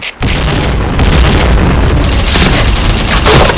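A grenade goes off in the shooter game Point Blank, a loud booming blast that bursts in abruptly after a brief quiet start and rumbles on with dense crackling debris.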